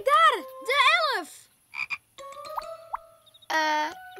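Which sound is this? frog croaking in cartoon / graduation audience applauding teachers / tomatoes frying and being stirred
frog croaking in cartoon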